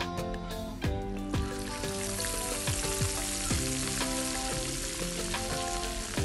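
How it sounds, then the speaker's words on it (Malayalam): A whole spiced chicken fries in sunflower oil over medium heat, giving a loud, steady sizzle with crackling pops throughout, close up and with no voices. "ഞാൻ സൺഫ്ലവർ ഓയിലാണ് കേട്ടോ അത് ഫ്രൈ ചെയ്യണത്."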